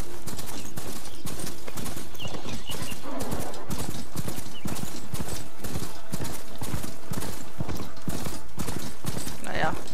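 Horse hooves gallop in a steady, rapid clip-clop rhythm throughout, ridden in the Horizon Forbidden West video game, with a brief whinny near the end and someone talking over the hoofbeats.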